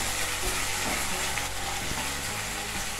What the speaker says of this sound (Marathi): तर आता आपण यामध्ये टोमॅटो ॲड करून घेऊयात आणि हा देखील एकदम सॉफ्ट होईपर्यंत परतून